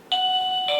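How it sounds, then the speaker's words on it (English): A bright two-note electronic doorbell chime from a TCL D2 Pro smart lock rings out close and clear, the second tone following about half a second after the first. "It's a doorbell too."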